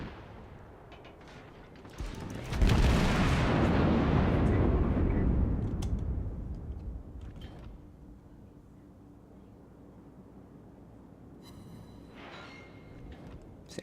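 Heavy naval gunfire from a warship in a game, heard as a loud booming blast that rolls into a long rumbling roar, then fades to faint scattered impacts and crackles.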